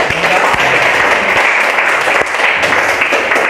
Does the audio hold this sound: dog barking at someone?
no